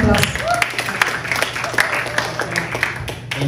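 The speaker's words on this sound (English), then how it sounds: "A round of applause." A church congregation applauds during a sermon, lively close clapping with a crowd murmur and a few voices mixed in, holding steady throughout.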